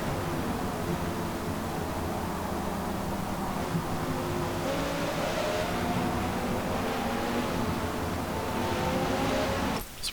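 Mid-engine race car in Forza Motorsport holding a loud, steady engine drone with a rising pitch sweep through the middle, continuous for about ten seconds and cutting off at the end, with no talk.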